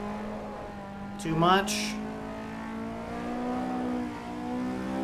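A racing car in a driving video game revs under throttle, its engine tone climbing steadily and sustained, with a short spoken remark layered over a louder burst partway through.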